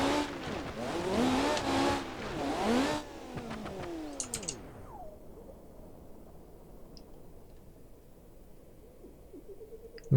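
A rear-engined car in a driving video game revs hard with squealing tyres, then flies over a cliff edge. The engine roar fades away, leaving only a low rumbling hush.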